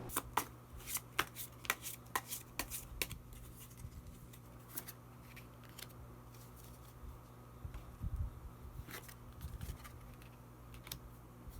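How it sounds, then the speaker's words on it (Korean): Tarot cards are shuffled and drawn, giving a run of crisp, close, irregular riffling snaps and flicks that bunch up at the start and then turn to sparse card taps and slides. "마지막으로 히든 카드 한 장 더 뽑아보도록 하겠습니다."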